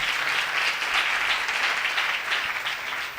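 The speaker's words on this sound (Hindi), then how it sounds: "तालियां बजाकर बताएं।" Congregation clapping during a church service, a loud, sustained sheet of many hands applauding together with gentle swells, filling the whole stretch without a break.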